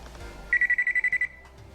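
A non-contact voltage tester beeps rapidly as it finds the hot wire in ceiling fan wiring, about ten quick, evenly spaced high-pitched chirps lasting under a second, close and clear over a quiet room.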